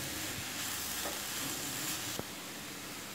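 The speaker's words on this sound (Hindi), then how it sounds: "अब क्रश किया हुआ 1 टेबल स्पून पनीर है वो डाल देंगे और मिक्स कर लेंगे।" Crushed paneer mixed into vegetable momo stuffing in a hot pan: a quiet, even sizzle under soft stirring noises, with a single sharp scrape of the spoon near the end of a brief moment.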